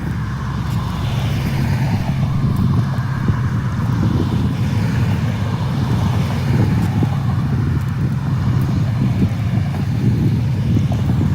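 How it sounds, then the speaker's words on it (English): Loud continuous wind rushing through a shady stretch under trees, a broad roaring buffet on the microphone that sounds like a small wind tunnel, steady throughout with no talk. "Sounds like a tornado inside under those trees there, but really it's like creating a mini wind tunnel"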